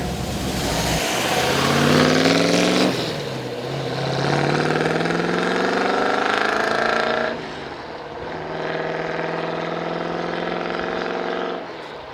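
1967 Ford Mustang Shelby GT350 V8 running up close, revving in long rising pulls that drop back between them, loud and alone with no voices.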